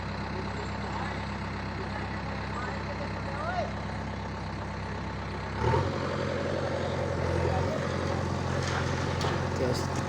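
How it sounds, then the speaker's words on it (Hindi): Tractors work at the demolition of an old mud-walled house in the Himachal hills, their diesel engines droning steadily and then revving harder partway through, with a person speaking over the rumble. "ट्रैक्टर लगे हैं इधर।"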